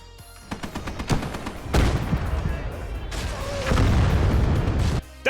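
Rockets in a video game explode in heavy booming blasts, with a rapid string of sharp cracks near the start and two big roaring bursts later, each trailing into a rumbling wash.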